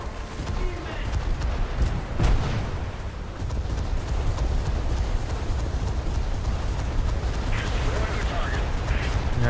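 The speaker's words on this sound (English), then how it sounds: "And it's an aircraft strafing me now." Continuous dense roar of aircraft strafing fire and explosions in a French coastal battle within a video game, loud and unbroken throughout, with one sharp impact early on.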